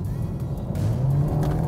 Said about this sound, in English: Just right now, I'm just gonna step on the gas.